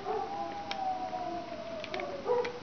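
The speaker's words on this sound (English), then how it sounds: "my dogs are howling too" Several dogs howl together in long, wavering, siren-like tones, fairly faint and sustained, with a couple of short sharp yips breaking through.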